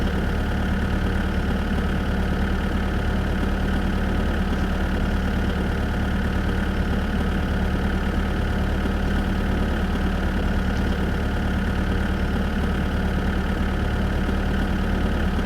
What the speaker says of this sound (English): of course you can drive with a tractor here